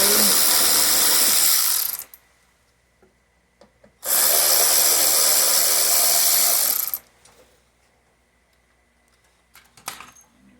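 Two long bursts of loud, harsh mechanical whirring from a wrench removing factory bolts on a Yamaha Rmax 4, each a few seconds, separated by quiet with small clicks and taps of metal parts.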